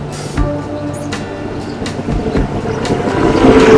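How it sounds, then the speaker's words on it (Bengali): The Kolkata–North Bengal express pulls into a station platform, its wheels rumbling and clattering loudly and close by, swelling steadily as it arrives. "ট্রেন ঢুকে গেছে প্ল্যাটফর্মে, আমাদের প্রতীক্ষিত সাইরান এক্সপ্রেস।"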